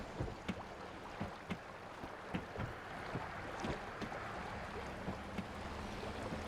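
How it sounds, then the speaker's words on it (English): Water sounds in the farming video game Farming Simulator 22 give a soft, low lapping wash with faint periodic splashes and knocks, quiet and steady with no talk. "Oh, that water sounds nice."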